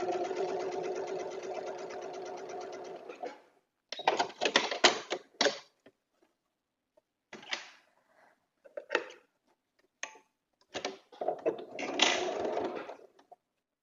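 A sewing machine stitching a snowball quilt block runs in a long steady whirring burst, then in several short stop-start bursts of rapid mechanical clatter separated by quiet pauses, close and clear.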